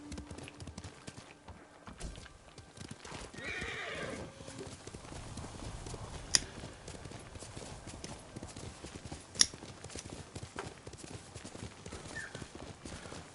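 Horse hooves clip-clopping at a steady pace in the video game Ghost of Tsushima, with a whinny partway through, fairly quiet under a soft ambient bed with a couple of sharp clicks.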